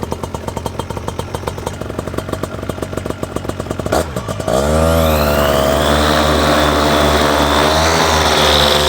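A Nomadic Trike powered paraglider's engine idles with a rapid putter, then throttles up into a loud, steady, rising drone that stays close and continuous.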